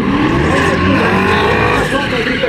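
A drift taxi car runs hard on a paid race track, its loud engine roaring steadily with tires skidding and squealing throughout, close and continuous.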